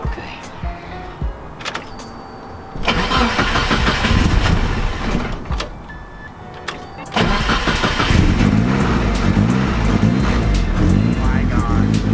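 A Mazda Miata engine cranks and catches, with two loud bursts of running engine separated by a quieter lull, while people talk over it.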